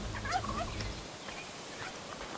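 A bird in the video game ARK Fjordur gives a brief, faint gobbling call at the start, followed by quiet game ambience.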